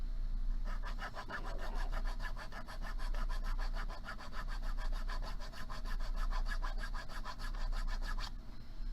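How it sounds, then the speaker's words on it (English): A half round file rasps back and forth across metal in a quick, even rhythm of strokes for several seconds, close up and fairly quiet. "I'm just going to use a half round file to do a little bit of cleanup here"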